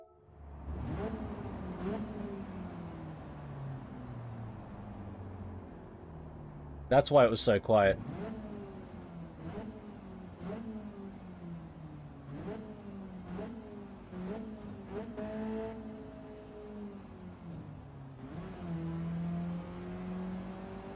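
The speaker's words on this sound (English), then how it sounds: "Is engine sound okay?" Racing-game car engine revving and shifting through gears in GT7 or Forza Motorsport, repeated rising whines with drops at each shift, loud and close, with a burst of harsh noise midway and someone talking over it.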